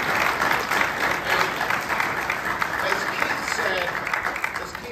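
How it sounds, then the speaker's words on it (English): Sustained audience applause fills a university retirement press conference, a dense steady wash of clapping with some crowd noise and possible voices mixed in. "but we better have a round of applause for him."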